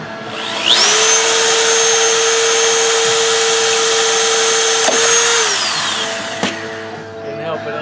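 Power drill with a 1/8 inch bit boring a hole while working on a lawn mower, a loud steady whine that runs for several seconds, dips in pitch under load, then winds down.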